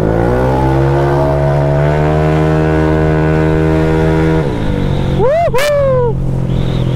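A Honda Vario scooter fitted with a WRC exhaust holds a loud, steady engine drone close by, then the revs shift and rise sharply in a quick throttle sweep before settling back.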